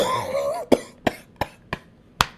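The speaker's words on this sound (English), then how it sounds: "Pardon me, I'm coughing." A man coughs five times in quick, sharp bursts, close and loud, right after a brief stretch of his voice.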